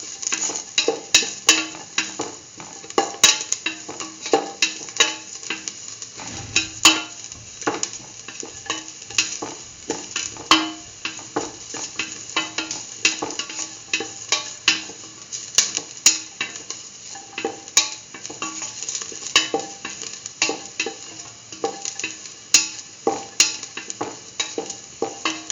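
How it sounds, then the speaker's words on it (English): Curried mustard okra stew sizzles in a pan while it is sautéed and stirred, with a constant frying hiss broken by frequent sharp scrapes and clinks of the spoon against the pan throughout. "thoroughly saute and mix."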